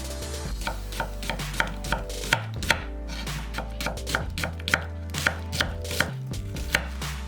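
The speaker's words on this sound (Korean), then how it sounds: "양파 1개는 반을 갈라서 살짝 굵게 채 썰었다" A knife slices a halved onion into thick strips on a cutting board, a run of crisp, regular chopping thuds close up over a low background hum.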